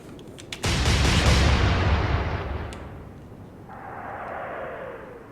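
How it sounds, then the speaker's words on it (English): Warship guns fire a volley at a destroyer in the naval video game Atlantic Fleet, one heavy booming blast that rolls out into a long rumbling decay, followed by a softer whistling swell. "let's go ahead and start firing at the destroyer"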